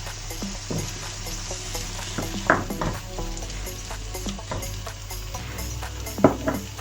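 Tomatoes, salt and green chilli fry in a pan for a chicken malai balti boti dish, with a continuous close sizzle and repeated sharp stirring and scraping clicks.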